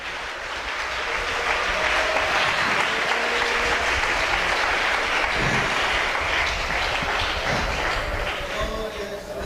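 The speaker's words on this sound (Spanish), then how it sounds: "Un aplauso para él." Church congregation applauding loudly and steadily for a sustained stretch, a dense wash of clapping with faint voices mixed in beneath.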